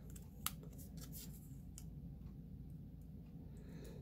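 Scissors cutting card stock for handmade cards, faint crisp snips and ticks scattered over a low background hum, quiet and close, without talking.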